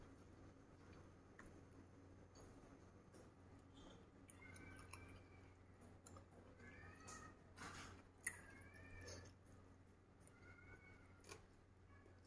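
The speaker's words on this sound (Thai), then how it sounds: "เสียงแมว" A cat meows several times in a quiet kitchen setting, drawn-out wavering cries recurring at intervals over a faint background hum and light ticking, with no talk.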